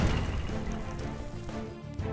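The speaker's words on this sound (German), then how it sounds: "Eine Barrikade zerstört." A barricade is smashed apart in the tower-defence game Dungeon Warfare: dense, continuous crashing and crunching debris noise at steady loudness, with no talk.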